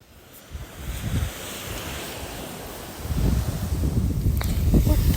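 Waves wash onto a beach in Luquillo, Puerto Rico, a close, rushing surf roar that swells louder toward the end, with wind buffeting the microphone.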